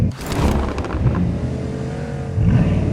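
A car engine revving in PUBG Mobile on the Erangel map, a loud rising and falling whine close by with a brief flapping rattle early on and a fresh surge of throttle toward the end.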